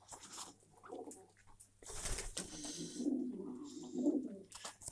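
Domestic racing pigeons cooing close by in low, throaty bursts, with some rustling and a brief fluttery noise in between.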